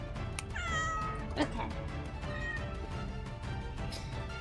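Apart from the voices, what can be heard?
pet cat meowing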